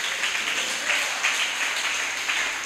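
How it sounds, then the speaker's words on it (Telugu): A church congregation at Sunday worship claps together, a dense, even patter of many hands that holds steady for a few seconds with no voices. "వారిని బట్టి అందరూ ఒకసారి చప్పట్లు కొడదామా?"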